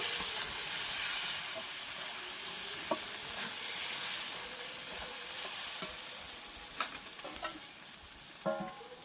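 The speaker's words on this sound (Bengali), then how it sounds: "এবার এগুলো সব একসাথে আমি একটু কষিয়ে নেব।" Spices with Kashmiri chili powder sizzle and hiss in a hot pan during sautéing for a yogurt chicken curry, a soft continuous frying crackle broken by occasional scraping clicks of stirring.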